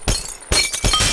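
Glass shattering in the video game Happy Wheels, two bursts of breaking glass with bright crackling shards, the second following about half a second after the first, loud and close.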